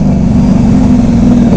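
A Honda Goldwing motorcycle engine with an aftermarket loud exhaust rumbles at steady idle, a deep continuous throb heard close and loud throughout with no talking.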